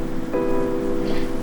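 Steady rain falls outdoors as a continuous, even hiss, with a faint tonal hum running underneath it throughout.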